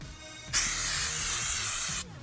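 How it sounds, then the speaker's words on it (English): An aerosol can of degreaser sprays onto a vehicle in one steady hiss lasting about a second and a half, loud and close, with a faint low background rumble around it. "You spray it on the vehicle or any job, and it removes all the grease, dirt,"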